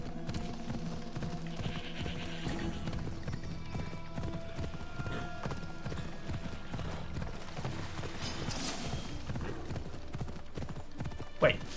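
Steady clip-clop of a galloping horse in Assassin's Creed Odyssey runs without a break over game music and ambience, with a brief whinny and someone talking over it.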